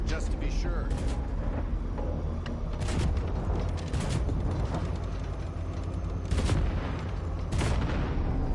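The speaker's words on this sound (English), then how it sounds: "Just keep shooting at those rust buckets." Gunfire in Cyberpunk 2077 as enemy robots are shot down, with a few loud bursts and booms standing out from a dense, steady wash of game noise and effects.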